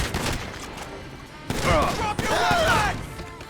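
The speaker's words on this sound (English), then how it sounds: "they treat the arms dealer as an active shooter and open fire on him" Police open fire on an arms dealer in GTA 5, sharp gunshots crackling in bursts under a narrating voice, loud and close with rapid reports.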